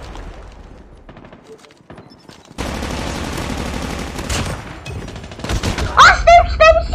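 Rapid gunfire in a Digital Hide video game bursts out loud and dense after a quieter opening, continuing as sustained volleys with sharp spiky effects near the end.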